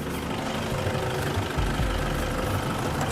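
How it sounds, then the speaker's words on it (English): A tractor engine chugs and knocks with an uneven low rumble, growing slightly heavier as it draws closer. "Is this a tractor coming?"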